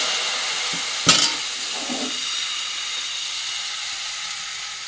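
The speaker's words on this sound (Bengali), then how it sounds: "ঘি দিয়েই কিন্তু আজকে পাটিসাপটাগুলো ভাজবো" Patishapta batter fries in ghee on a tawa with a steady, close sizzling hiss, marked by a brief sharp utensil clink near the start.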